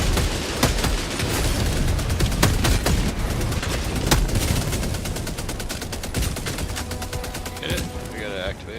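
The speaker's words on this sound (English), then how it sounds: "I put down a machine gun, so careful." Deployed machine gun turret in Helldivers blasting away in rapid, sustained bursts amid a chaotic battle with robots and bugs, dense continuous gunfire and explosions layered with voices.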